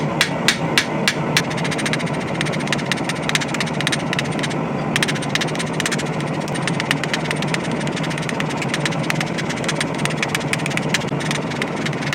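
Rapid, steady hammer taps forming a metal candy dish, sharp ringing strikes repeating in quick bursts over a constant low mechanical hum.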